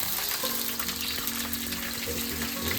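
Water poured into a pan of frying garlic, shallots and lemongrass sends up a loud, steady sizzle that hisses continuously for a few seconds, close by, with no voices.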